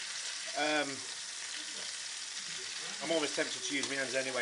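Chicken pieces frying in a pan for a Moroccan chicken dish give a steady close sizzle throughout, while a person talks over it in two short bursts.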